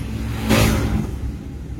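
A car engine revs up briefly and then eases off during a shift into third gear, a single loud mid-pitched surge close by that settles into a steady hum.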